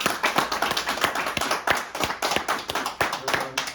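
A church congregation claps in a fast, steady rhythm, many hands striking together in quick repeated beats that fill the room without pause.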